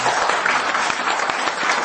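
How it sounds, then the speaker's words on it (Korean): A church revival meeting audience breaks into brief, continuous applause, a close wash of many hands clapping with no voices over it. "박수 한번 하겠습니다."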